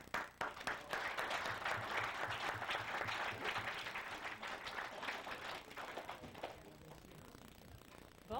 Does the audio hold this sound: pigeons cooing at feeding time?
no